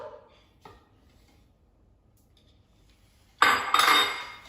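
Banana bread batter is stirred with sugar in a bowl: faint scrapes at first, then a loud close-up run of clattering, clinking utensil-on-bowl mixing at the end.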